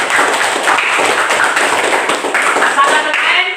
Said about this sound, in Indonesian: mana tepuk tangan untuk semua dulu